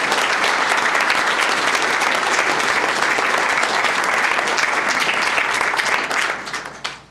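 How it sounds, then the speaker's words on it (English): A room full of people at a school district board meeting applauds principals, loud, dense clapping that runs steadily for several seconds before thinning out and fading near the end. "Let's give each one of them a round of applause."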